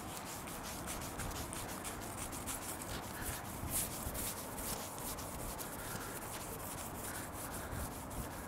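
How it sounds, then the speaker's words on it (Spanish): Soft, continuous rubbing and squeaky scraping of a clay bar on car paint, a close, quiet sliding friction repeated in quick back-and-forth strokes with no talking. "Ahí ya deja de hacer ruido y se desliza muchísimo mejor la clay bar."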